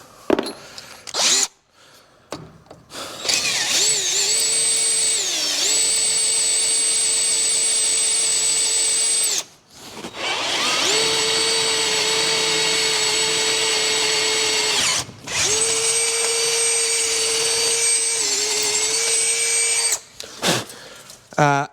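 A power drill bores through thick steel while making fender frame mounts for an XLCH chopper. It whines loudly in three long sustained bursts, separated by short pauses.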